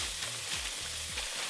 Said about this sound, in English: Continue cooking your beef and make sure to come and stir periodically.